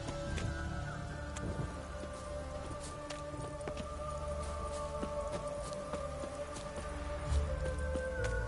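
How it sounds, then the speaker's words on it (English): Video game rain patters steadily throughout, a dense field of small droplet taps with occasional sharper hits, moderately faint and with no speech over it. "Rain again."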